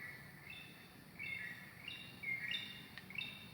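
Birds near a house give faint, thin chirps and short whistled phrases, repeating every second or so over a quiet outdoor background.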